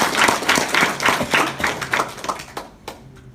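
An audience in an office mentoring session claps in a brisk, even burst that fades out toward the end, close by and fairly loud.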